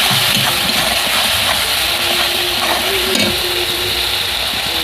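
Spices with chili powder and salt fry in a pan for a snakehead fish curry, a steady sizzle and occasional stirring scrapes over a constant low engine-like hum in the background.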